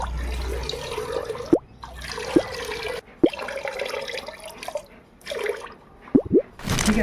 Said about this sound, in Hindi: 4 kg DEP ऑयल और 1 kg परफ्यूम इसके अंदर मिला दिया है